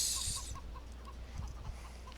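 Chickens on a farm in a game give soft, repeated clucks in a steady, spaced rhythm. They sound close but quiet over a low background hum, with no talking.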